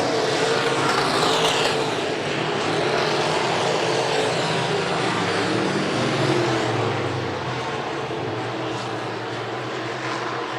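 A stock car at Buena Vista Raceway roars down the front straightaway by the flag stand, its engine buzzing hard against the rev limiter in a loud sustained drone that slowly fades.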